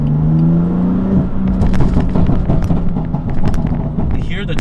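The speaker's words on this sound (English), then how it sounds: "You can hear the 6-cylinder inline 6 working." A BMW M4 CS turbocharged inline-six engine hums low and steady, then revs up with a throaty growl and some mechanical whir, while someone talks over it.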